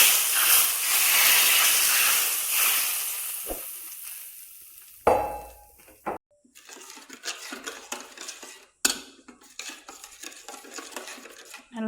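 Heated oil poured over noodle seasoning crackles and sizzles loudly at first, the hiss slowly dying down, followed by scattered clinks and stirring noises of utensils against a bowl.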